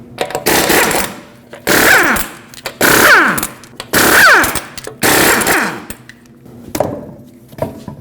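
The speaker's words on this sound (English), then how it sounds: "use a 19mm socket, remove all 5 lug nuts, and then pull the wheel off" An impact wrench zips off the lug nuts on a 2016-2022 Honda HR-V rear wheel with a 19mm socket, giving five loud, close rattling bursts with short pauses between them.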